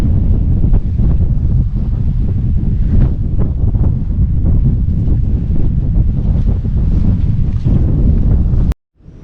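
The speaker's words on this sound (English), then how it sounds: "I shouldn't have said the wind had dropped as we got close to land. It's now increased, blowing 30 now." Strong wind of about 30 knots roars across a sailing boat at sea near the Mull of Galloway, a loud continuous buffeting rush over the microphone with wave wash beneath, cutting off abruptly at the end.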